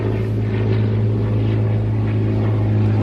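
A propeller airplane drones overhead, a steady loud engine hum with strong low tones holding throughout, no talking.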